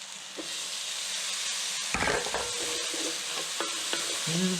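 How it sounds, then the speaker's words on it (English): Peas tumble into a hot pan of wilting spinach for a pasta dish, setting off a steady close sizzle with stirring scrapes and a few soft clinks. "I'm going to add the peas."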